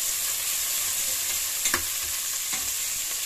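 Onions frying in a pan until reddish-brown, a steady close sizzle throughout with a couple of brief stirring scrapes near the end, no voices.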